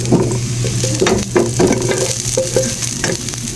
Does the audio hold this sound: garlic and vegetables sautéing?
yes